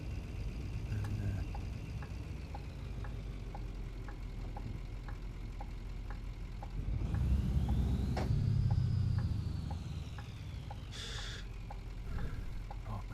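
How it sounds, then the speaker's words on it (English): Road traffic in Euro Truck Simulator 2 rolls past a truck's cab over a steady engine rumble. One vehicle swells louder as it passes close by, while a faint, regular ticking runs throughout. "A nice flow of traffic coming now"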